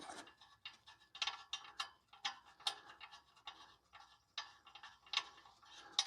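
A screw is driven down by hand on a catalytic converter hack fitting, giving a close run of quick, irregular ratcheting clicks and scrapes that come in short bursts.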